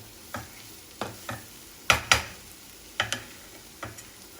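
Palak paneer masala mixture cooking in a covered pan, heard as a quiet background sizzle broken by about ten sharp spattering pops and ticks at irregular intervals.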